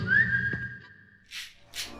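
A person whistles nearby: one note slides upward and holds steadily, then a couple of soft breathy puffs follow.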